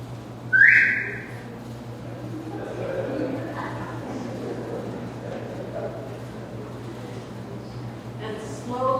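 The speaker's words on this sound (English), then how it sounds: "And he whistled." A man gives a single short, sharp whistle near the start, inside a church. Quiet room ambience follows with faint murmuring.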